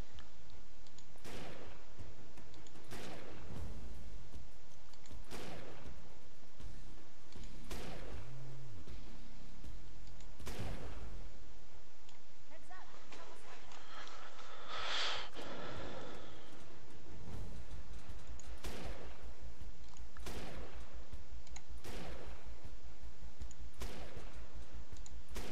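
Gunfire in the video game Defiance rings out as a string of sharp, separate shots spaced a second or two apart, each with a short echoing tail, fairly quiet and with no talking.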